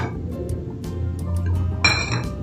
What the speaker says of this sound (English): Just whisk it or mix it with a spoon until you get a nice fluffy, creamy, light texture